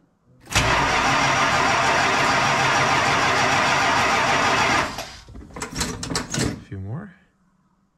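A car engine that sat for two months on cement in the cold, with a weak battery, cranks loudly and steadily for several seconds, then catches and starts, followed by a few uneven revs and a voice speaking briefly.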